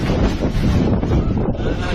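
Violent whirlwind tearing across a fishing pond, with heavy roaring wind buffeting the microphone in a dense, continuous rush and no clear voices.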